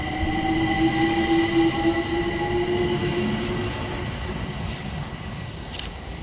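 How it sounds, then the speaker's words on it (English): A London Overground class 378 electric train pulls away from New Cross Gate with a rising, steady motor whine and rumbling wheels, loud and close, easing off as it departs, with a brief squeal near the end. "we see the departure of 378206 working the 1624 London Overground service from West Croydon through to Highbury and Islington"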